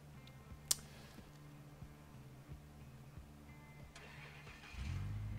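A stalled truck engine in the off-road game SnowRunner cranking and restarting, with faint clicks and ticks before a low engine rumble swells up near the end, without talk.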